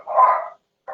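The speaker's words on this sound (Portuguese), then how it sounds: "Qual o problema desses cachorros, Jesus?" A dog gives one loud bark close by, followed moments later by a shorter second bark.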